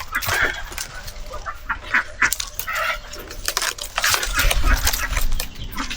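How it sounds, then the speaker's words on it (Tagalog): Native chickens on a small farm give scattered clucks and short calls close by, among rustling and clattering movement noises. "Kasi yung isang ating native na manok"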